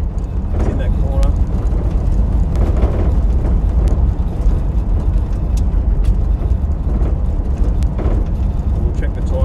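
An old car, back on the road after more than 40 years off it, drives with a steady engine and road rumble and a loose rattle knocking through it. Someone talks intermittently over the noise.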